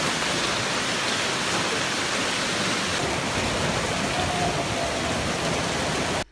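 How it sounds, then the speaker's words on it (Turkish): A heavy rain downpour in Istanbul, a dense, steady loud hiss of falling water on surfaces throughout, without pauses, cutting off at the end. "Bir tarafta sağanak, bir tarafta dolu etkili oldu."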